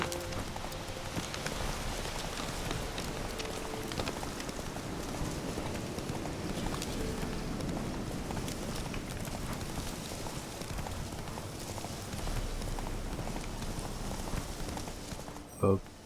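Roach the horse's hooves clop along through rain in The Witcher 3, a steady patter of hoofbeats mixed with soft rainfall and ambient game sound, with a voice talking quietly over it.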